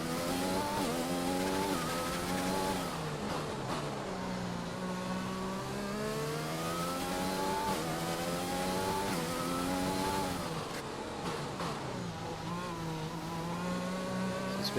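F1 cars from the game F1 2020 battle wheel to wheel at the USA round, their high engine whines rising and falling together through gear changes, loud and continuous with no talk.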